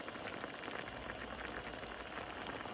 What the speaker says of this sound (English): Look at how that's just bubbling away.